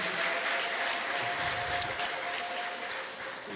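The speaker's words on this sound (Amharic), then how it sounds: "እስቲ መልሰን ለእግዚአብሔር ትልቅ እልልታ ጭብጨባ" Church congregation at an Ethiopian Christmas service applauding, a dense, steady wash of clapping filling the room for several seconds, with a faint sustained high tone running through it.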